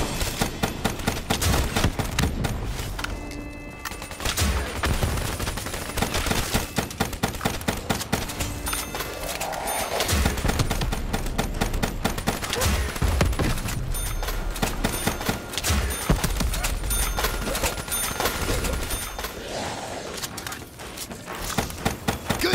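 Rapid automatic gunfire in Black Ops 3 Zombies on the Ascension map, dense bursts of loud shots crackling almost continuously with brief gaps and occasional swells of other game noise.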